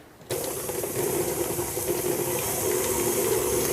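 An electric mixer creams butter and a block of cream cheese for a pound cake. It switches on abruptly and keeps up a steady whirring motor drone with rattling beaters, loud and close.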